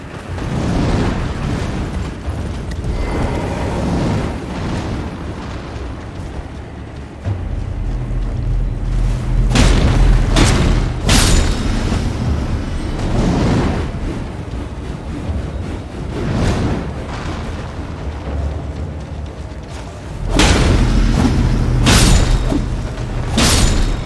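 Dung beetle balls blow up in the video game Elden Ring, heavy booming blasts rising out of a constant rumbling game ambience, with several loud bursts spaced apart and a dense cluster near the end.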